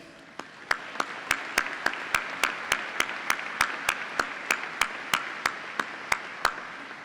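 Commencement crowd applause forms a steady wash of clapping, with one sharp near clap repeating in a regular rhythm above it throughout.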